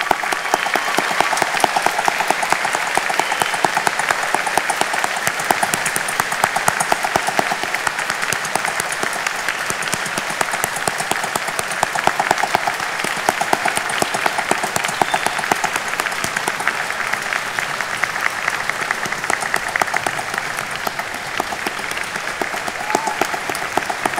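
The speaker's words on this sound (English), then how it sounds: "join in applauding each of you on the completion of your programs" Sustained audience applause fills a university spring convocation ceremony as graduates complete their programs, a dense, steady wash of many hands clapping at even loudness throughout, with no break and no voices over it.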